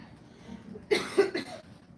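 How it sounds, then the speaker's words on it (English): A man at an expo coughs a few times in quick succession, close and sharp, the bursts breaking a quiet pause between his words. "developed a little bit of a cough here"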